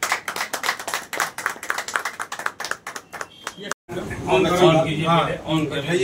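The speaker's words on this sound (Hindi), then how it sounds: "हमारे मेहमान के लिए इज्जत जनाब गौतम मुरारी साहब के लिए एक बार तालियों के साथ स्वागत किया जाए" Audience at a consultation service event clapping to welcome a guest, with sharp, fairly close hand claps in an uneven rhythm that stop abruptly, then give way to someone talking.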